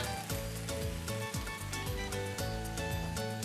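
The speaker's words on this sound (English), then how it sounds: "a squeeze of lemon or lime juice, just to get the sizzle going" Food sizzles steadily in a hot pan right after a squeeze of lemon or lime juice, a continuous close frying hiss with no talk.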